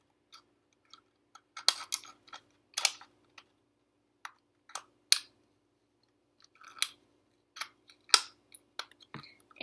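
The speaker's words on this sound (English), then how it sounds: "now I'm going to cut along my lines a bit better" Cutting along drawn Sharpie lines to shape a Bulbasaur planter makes irregular clusters of crisp, close snips and crunches separated by short quiet gaps.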